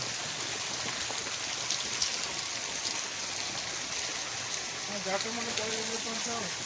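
Steady monsoon-style rain hisses down evenly throughout, a constant soft wash of falling water, with a voice speaking briefly near the end.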